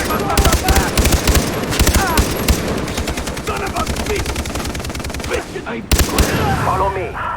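Rapid gunfire in the video game Far Cry 3, dense bursts of shots crackling continuously and loudly throughout, with a voice shouting in between and a brief break near the end.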